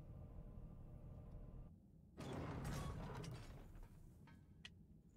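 A pressure-plate mechanism moving a platform in the Code Vein video game, with a steady mechanical hum that gives way to a louder grinding rumble of the platform and some clanks and creaks as it travels, alone without talk.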